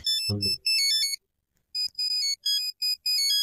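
Mobile phone ringtone for an incoming call, a bright electronic melody of short repeated tones with a brief pause, and a voice speaking briefly at the start.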